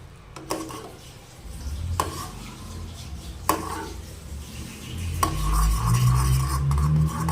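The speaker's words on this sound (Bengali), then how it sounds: "এভাবে নাড়িয়ে নাড়িয়ে একটু ঠিক করে নিয়েছি" Milk being stirred in a pan on the stove, with metal spoon scrapes and a few sharp knocks against the pan over a low bubbling rumble.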